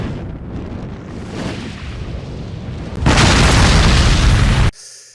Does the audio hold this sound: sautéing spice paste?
no